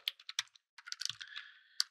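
Close, quiet typing on a computer keyboard: a quick run of separate key clicks, a brief pause, then a denser burst of keystrokes ending in one sharp click, with no talking.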